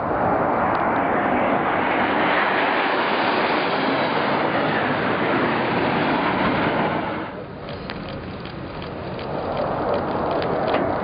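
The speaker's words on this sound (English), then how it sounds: "We have two Russian Su-24s currently conducting multiple passes at CPAs of 75 feet" Two Russian Su-24 jets make repeated low passes near the USS Donald Cook at sea, a loud continuous roaring rush that holds steady, dips briefly, then swells again, with no talk.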